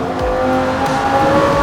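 Lamborghini GT3 race car at Brands Hatch, engine loud and steady near full throttle through a corner onto the back straight, with a continuous high harmonic drone and slight pitch shifts.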